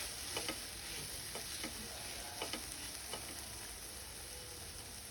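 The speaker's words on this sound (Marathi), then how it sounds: "एक चमचा धणे घातलेले आहेत हेही छान परतवून घ्यायचं आहे" Coriander seeds roast in a pan for dum aloo, a soft, faint dry sizzle with several light scraping taps of a spoon stirring at irregular intervals.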